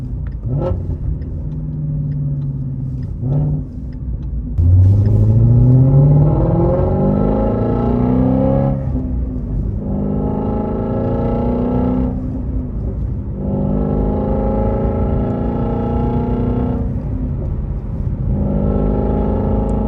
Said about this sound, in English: Now the rev match sounds good instantly.